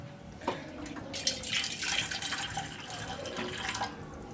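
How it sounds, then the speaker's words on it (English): Hot water runs steadily from a kitchen tap while pork is prepared for boiling, a close, continuous splashing stream that swells and shifts as the flow hits the sink. "So you have your hot water running"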